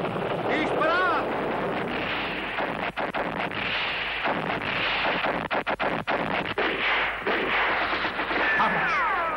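Cannon fire in a 1977 Spanish-dialogue war film: continuous loud, booming barrage with repeated heavy blasts and rumbling over wind-like roar, with voices shouting in the background.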